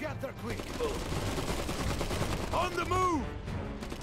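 Rapid gunfire and battlefield noise from the real-time strategy game Iron Harvest, crackling bursts steady in the background while a voice speaks briefly over them.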